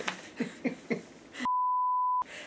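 A mobile phone gives one steady electronic beep lasting under a second. It is clear and moderately loud and follows a few soft knocks and rustles indoors.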